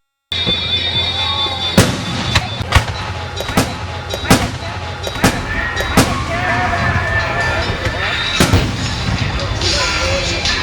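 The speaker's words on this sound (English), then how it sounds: "I think I'll shoot off some fireworks." Fireworks being shot off crack out as a rapid, irregular run of about ten sharp, loud bangs, each with a short crackling tail, over a busy background of noise.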